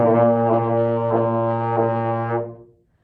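A single sustained slurred trombone tone, full and steady, with faint pulses through it before it fades out at the end.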